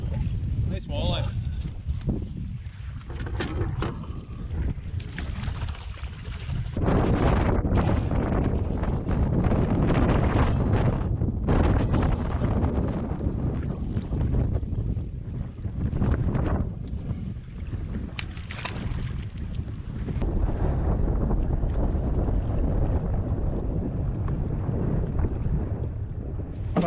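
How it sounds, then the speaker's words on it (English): Strong, steady wind on a lake during a wilderness canoe fishing trip, roaring close on the microphone as a continuous low buffeting that swells and eases slightly throughout. "Battling this wind, but can't help but troll."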